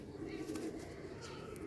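A pigeon coos softly and close by in a low, steady rolling murmur, with faint speech beneath.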